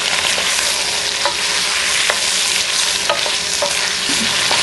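Beef rendang is stirred in a hot pan, giving a loud, steady sizzle with scattered scraping strokes of the utensil and no voices.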